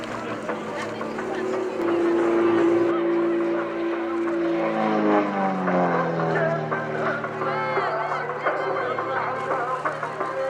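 Aerobatic aircraft fly in mirror formation at an airshow, their engine drone sweeping in pitch as they pass overhead, loud and sustained, with a voice talking underneath.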